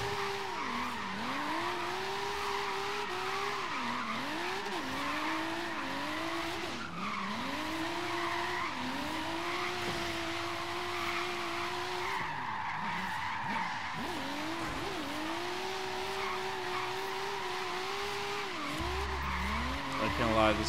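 A midnight purple Nissan S15 drift build in the Forza Horizon 3 racing game screeches through long continuous tire skids, its engine droning and rising in repeated sweeps under occasional speech.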